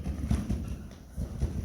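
A careful horse steps over ground poles in a cavaletti grid, its hooves sounding a steady, close clip-clop of several soft thuds on the ground, with no voices.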